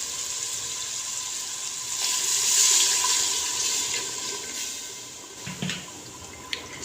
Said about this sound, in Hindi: ये 2 गिलास मैंने पानी के डाल दिए हैं।